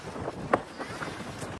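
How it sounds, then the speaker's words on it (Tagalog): Steady wind rushes past the microphone at a cable car station on a cloudy, breezy day, a continuous broadband roar with a few faint bumps and distant sounds mixed in. "medyo makulimlim, mahangin at presko"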